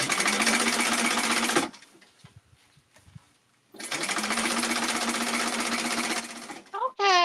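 A domestic sewing machine top-stitching a fabric accordion clutch bag, running in two loud, rapid, continuous bursts separated by a quieter pause with faint handling sounds, then a brief whirring squeak at the end.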